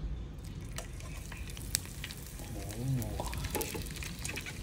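Beef tapa sizzles steadily in hot cooking oil, a dense crackling hiss that swells a little louder partway through, close and continuous, with a brief voice murmuring under it.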